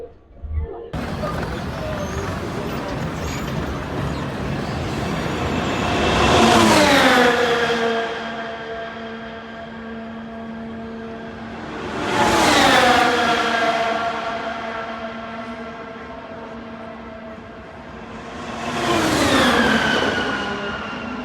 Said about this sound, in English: you're going to hear the cars race by